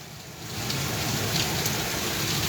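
Heavy rain and wind during a storm make a dense, steady hiss of falling water that swells slightly after the start and holds loud and constant, with no talking.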